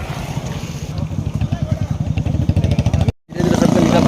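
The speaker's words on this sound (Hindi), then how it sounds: "एक और आ गया स्प्लेंडर।" A Hero Splendor motorcycle pulls up close with a loud, rapid, pulsing single-cylinder engine thrum that holds steady before cutting off briefly and resuming at a group bike ride on Independence Day.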